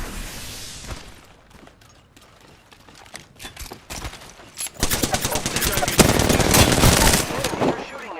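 Rapid automatic gunfire in a sci-fi shooter video game, sparse shots at first, then dense loud bursts building over the last few seconds with game voices mixed in.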